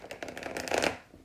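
Tarot cards are shuffled by hand in a quick, soft riffling burst that swells briefly, then fades, with no voices.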